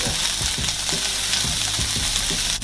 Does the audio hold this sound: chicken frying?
yes